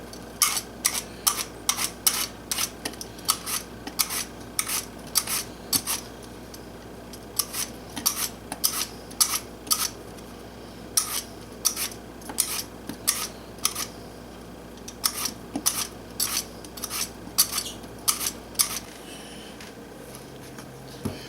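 A knife slices a bruise out of an apple at a camp cooking setup, making a run of crisp, rhythmic cutting clicks and snips in short bursts with brief gaps, close and fairly quiet.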